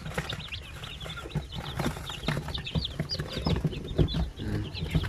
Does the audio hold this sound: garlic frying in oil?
no